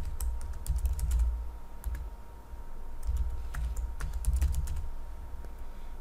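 Rapid clicking keystrokes on a computer keyboard as a password is typed, close and fairly quiet, in uneven bursts with brief pauses and a faint steady hum underneath.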